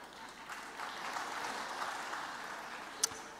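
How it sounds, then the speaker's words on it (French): Audience applause at a French lecture, a soft, fairly distant patter of clapping holding steady, with one sharp louder clap near the end. "Je crois que ça mérite totalement vos applaudissements."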